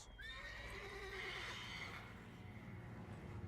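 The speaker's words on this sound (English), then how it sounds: "Worthy of the best horse. The mare is yours." A horse whinnies in the video game The Witcher 3: Wild Hunt, one drawn-out neigh rising then falling over low steady game ambience, fairly quiet and without speech.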